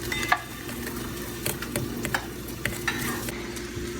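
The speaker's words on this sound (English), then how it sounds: "mix in 3 tablespoons of cornstarch into the egg whites" Three tablespoons of cornstarch are mixed into two separated egg whites for a batter, with quick irregular utensil taps and scrapes against the bowl.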